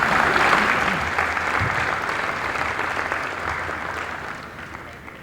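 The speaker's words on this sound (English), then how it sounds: "Please give them a good round of applause." Audience applause for a college basketball team at an athletic banquet and hall of fame ceremony, a steady dense roar of many hands clapping that holds loud throughout and fades slightly toward the end.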